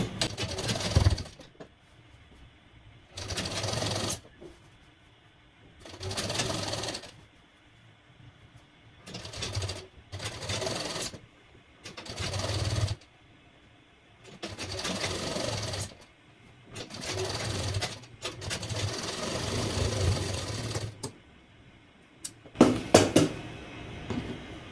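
Sewing machine stitching suit fabric in repeated bursts of rapid whirring, each run lasting a second or two, separated by short pauses with faint handling noises, loud and close.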